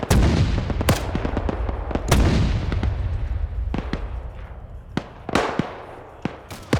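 Artillery fire in a war video game, a run of loud booming blasts spaced irregularly with sharp cracks and rumbling tails, some close and heavy, others lighter, no talking over it.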